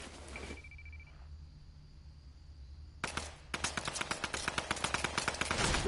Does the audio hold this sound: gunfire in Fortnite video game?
yes